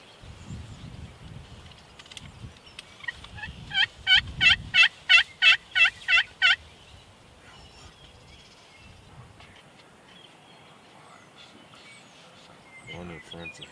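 A run of about nine loud, rapid gobbles from wild turkeys in Nebraska, close by, with quiet voices murmuring before and after.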